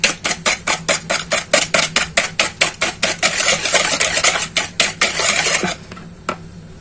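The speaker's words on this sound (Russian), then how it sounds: "венчиком взобью." Quick rhythmic clinking of a hand whisk beating batter in a bowl for a homemade apple pie, steady strokes about four per second, then a softer scraping stretch and one final tap, close and clear.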